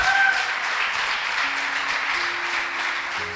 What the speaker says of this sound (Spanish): Dale un aplauso al Rey de la Gloria.